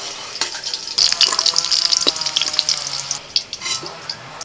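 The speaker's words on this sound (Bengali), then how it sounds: "কাজু কিশমিশ একটু হালকা করে ভেজে তুলে নিতে হবে" Washed cashews and raisins frying in hot oil, a close, bright crackle and sizzle with bursts of spattering and stirring scrapes, loud and busy throughout with no talk.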